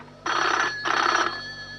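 Two loud rings of a telephone bell, each about half a second, separated by a short gap over a quiet background hum, with no talk.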